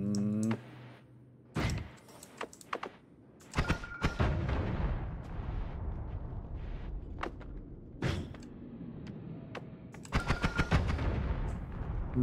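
Bombs exploding in the video game Noita, with a sharp blast followed by a run of crackling, rumbling detonations and scattered impacts that rise again into a clustered burst toward the end; no speech.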